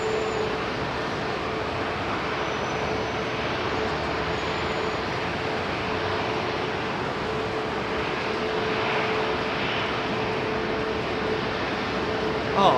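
Aircraft at London Heathrow Airport on a busy evening, a steady broadband jet roar holding at even loudness throughout, with a faint tonal whine running underneath.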